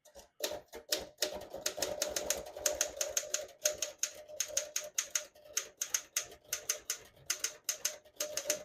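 Rapid typing on a 1954 Royal HHP portable office typewriter, a dense run of crisp mechanical key strikes with steady rhythm and brief pauses, close and alone with no talk.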